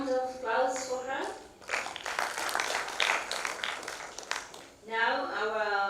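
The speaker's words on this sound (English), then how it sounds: "Another round of applause for her." Warm applause rises from the audience at an international scientific conference, a dense run of many hands clapping for about three seconds, framed by a presenter speaking into a microphone just before and after.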